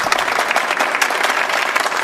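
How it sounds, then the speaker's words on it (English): A fake crowd sound effect for a baseball game, a steady wash of clapping and crowd noise, loud and unbroken throughout, no talk. "We're going to have fake crowd effects"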